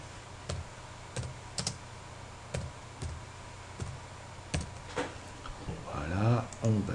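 Computer keyboard typing text into Photoshop: sparse, close key clicks and short bursts of taps spaced irregularly over quiet room tone, with a brief spoken voice near the end.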